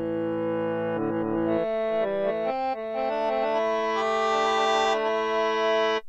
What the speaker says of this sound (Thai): หรือจะเป็นเสียงแคน